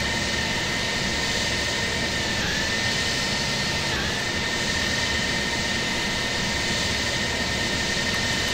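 Loud, steady roar of a jet airliner's engines during a takeoff run in Microsoft Flight Simulator X, a dense continuous rush with a faint whine and no voices.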